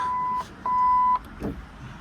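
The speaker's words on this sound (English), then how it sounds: "Garmin VHF radio up here beeping at me." Electronic beeps from a Garmin VHF marine radio on a 2026 Twin Vee 280 GFX2 boat: a long steady tone, a short gap, then a second long tone, followed by quieter background noise.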